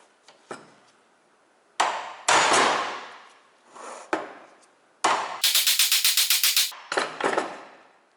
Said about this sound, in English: Now I can hammer this down.